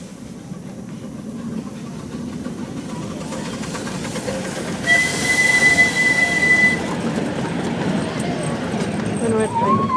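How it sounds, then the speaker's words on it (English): Passing train with wheels squealing on the rails, a close rumbling roll with a sharp high metallic screech partway through, while people talk nearby. "There's a train."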